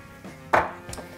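Fresh pineapple chunks are muddled for a cocktail: a soft knock, then one firm, juicy crushing thud with a wet squelch, and a lighter press afterward, close and clear with no talking.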